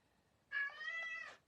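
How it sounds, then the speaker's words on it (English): A single drawn-out, grumpy meow from a cat, close and clear, rising and then fading after a brief silence. "Oh, I've got a grumpy cat."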